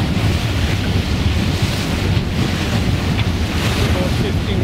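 Strong wind buffets the microphone over rushing waves and surf aboard a sailboat underway toward the Broughtons, a loud, constant roar with no pauses.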